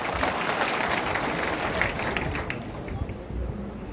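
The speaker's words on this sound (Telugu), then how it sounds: "చప్పట్లు కొట్టారు" A crowd at a village political meeting welcoming sarpanches, MPTCs and farmer committee heads applauds steadily, a thick wash of clapping for a couple of seconds that then tapers off.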